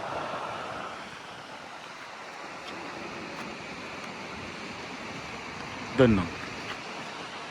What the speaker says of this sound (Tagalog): Ang lakas ng agos eh, no?